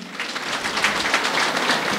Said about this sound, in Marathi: कृपया जोरात टाळ्या वाजवा.